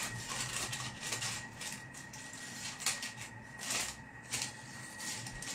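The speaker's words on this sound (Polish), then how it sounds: "będę wycinać papier" Baking paper being cut around a traced outline with a small margin, producing irregular crisp snips and rustling bursts at close range, fairly quiet, with a faint steady hum underneath.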